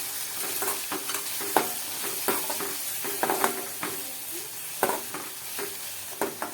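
Tomatoes and capsicum with turmeric and salt stirred in a sizzling pan: a spoon scrapes in repeated irregular strokes over a continuous close frying hiss, with no talking.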